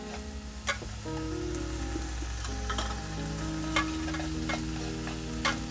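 Beef cut into thin noodle-like strips and lightly salted stir-fries in a pan for homemade jajangmyeon, a steady nearby sizzle with occasional sharp scrapes and clicks from stirring over a low steady hum.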